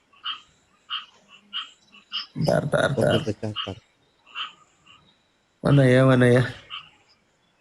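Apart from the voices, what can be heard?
frog croaking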